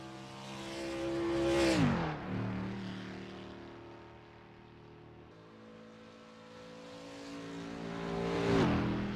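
Toby Johnson's Mercedes race car on the Isle of Man time trial, roaring past twice: engine note rises as it approaches near and loud, drops sharply as it passes, fades, then a second loud pass at the end.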